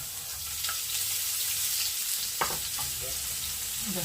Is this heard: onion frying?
yes